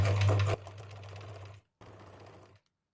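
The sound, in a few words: sewing machine stitching a towel skirt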